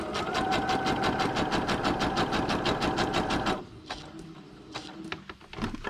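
Sewing machine running a regular single stitch down the edge of paper: a fast, even mechanical rattle of needle strokes for about three and a half seconds, then it stops and leaves light handling clicks.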